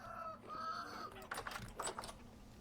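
Chickens clucking in a farming video game, pullets and a young cockerel that grow into roosters, giving short bird calls in a busy game soundscape with several brief clucks later on.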